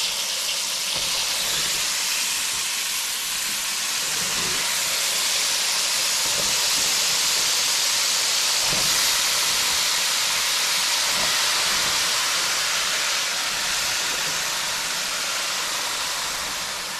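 Pumpkin pieces hit a hot pan and sizzle in a loud, continuous, even hiss that carries on steadily for over fifteen seconds with no talking.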